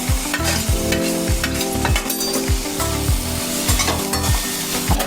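Masala for eggplant bharit fries loudly in a pan, a constant close sizzle overlaid by regular rhythmic scraping strokes of a spatula, about two per second, with no voices.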